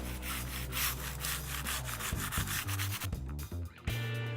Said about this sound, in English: We're going to go ahead and sand up to our marks.